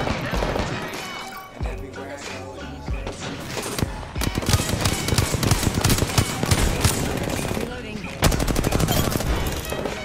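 Rapid bursts of gunfire from an Apex Legends match crackle loudly and almost without pause, with dense automatic volleys, a short lull and sharp renewed shooting near the end, mixed with game music and sounds.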